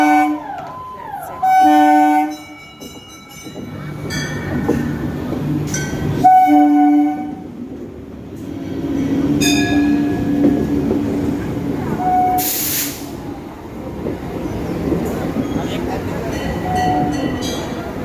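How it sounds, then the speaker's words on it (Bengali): Local train arriving at Nimtala Ghat station, with loud repeated horn blasts at the start and again midway, then a continuous rumble of wheels and carriages as it pulls in nearby, while people talk faintly. "এই যে ট্রেন আসছে, এই ট্রেনটা নিমতলা ঘাট থেকে ছাড়ে।"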